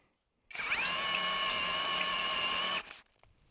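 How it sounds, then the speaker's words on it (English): A power drill whines steadily for about two seconds while driving a screw into a tiny house foundation, the motor's pitch rising briefly at the start before holding, then it stops abruptly. "we still had like 14 more screws to screw in"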